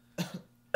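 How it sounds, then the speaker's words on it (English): Two short coughs from one person, a sharp cough followed by a second rough burst, then a final louder cough after a brief pause, close and clear with no talk over them. "I'm going to answer your cough with another cough."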